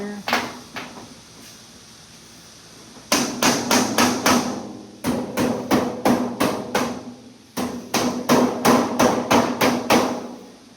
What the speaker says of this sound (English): That's where a sheet metal hammer comes in handy.